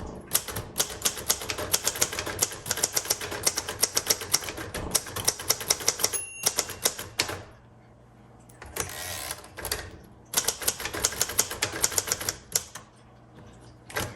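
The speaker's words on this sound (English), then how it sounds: "because I'm typing too fast for this typewriter" Rapid, dense keystrokes on a 1977 Royal Sabre typewriter, clattering in fast bursts with a carriage bell ding and short pauses between runs of typing, close and loud with no talking.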